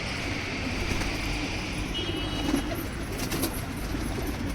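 Pigeons coo softly and repeatedly close by, their low throaty calls layered over a steady outdoor background hum.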